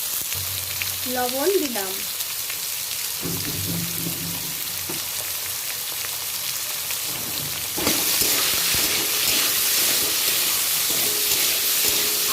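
Torn potatoes fry in a pan with a steady, close sizzling hiss that swells louder partway through, with occasional stirring scrapes and a brief spoken remark over the frying.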